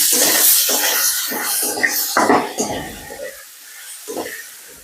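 Chopped tomato, onions and a pinch of salt stirred in a frying pan, giving soft scraping stirs and a light sizzle in bursts, close up, with no talking.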